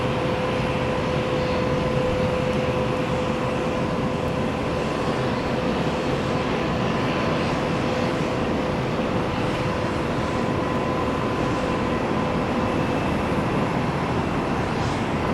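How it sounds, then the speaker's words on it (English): Nine-year-old Airbus A321 jet taking off for Charlotte, a steady, loud engine roar with sustained tones that holds evenly throughout with no talk. "9-year-old A321 blast-off machine headed to Charlotte"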